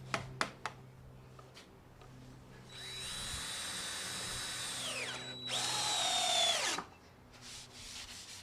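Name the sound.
power drill driving screws into wood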